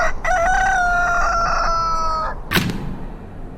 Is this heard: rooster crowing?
yes